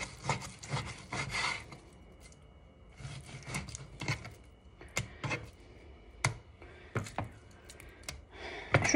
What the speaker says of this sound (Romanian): Și așa cum v-am spus, o tai așa fășii carnea.